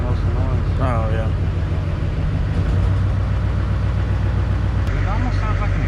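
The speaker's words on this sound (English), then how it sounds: "It almost sounds like an exhaust leak on an injector." A Duramax diesel V8 with a suspected exhaust leak near an injector runs steadily at close range, a deep continuous rumble with a faint ticking edge, while people talk over it at times.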